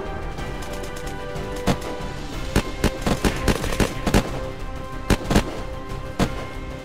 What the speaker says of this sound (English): Yeah, I got a guy shooting at me.